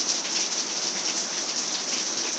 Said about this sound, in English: I'm going to be quiet for a few minutes so you can hear the sound of the raindrops